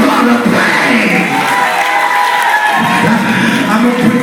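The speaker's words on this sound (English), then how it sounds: "Somebody clap your hands and give God a praise" A church congregation claps and cheers loudly and without pause, with whoops and shouts in the crowd and voices talking over the noise.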